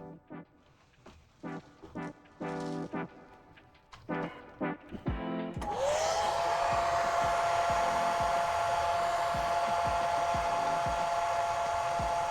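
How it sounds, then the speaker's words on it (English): A hair dryer is switched on partway through to dry wet paint, after a few short scattered sounds, then blows as a steady, close whooshing whine that holds to the end. "I'm going to hit us with a hairdryer real quick."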